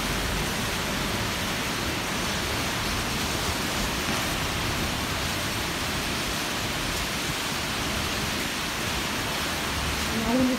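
Dense, steady downpour of heavy rain, a broad unbroken roar that holds at the same level throughout, with no voices.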